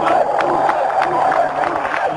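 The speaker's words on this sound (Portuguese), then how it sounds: "E olha a galera gritando a Ferrari, Rubens" Crowd at the Formula 1 Malaysian Grand Prix podium cheering and shouting for Ferrari, a dense steady roar of many voices with brief louder whoops rising throughout.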